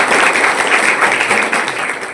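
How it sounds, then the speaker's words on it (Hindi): Audience at a district filariasis-elimination drug campaign event in Purnia applauding a guest, a loud sustained crowd clapping that dips slightly near the end. "तो सबसे पहले जोरदार तालियां एक बार सर के लिए।"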